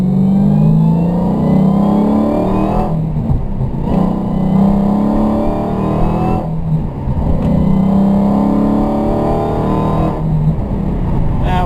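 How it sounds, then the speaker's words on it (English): A Dodge Hellcat accelerates hard through the first gears, its engine roaring upward in pitch, briefly dropping at each shift, then climbing again, loud and close. "Gonna do a couple pulls in different gears for you. First one will be in first gear after we make a turn."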